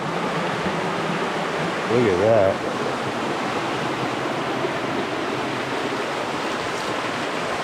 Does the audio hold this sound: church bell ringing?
no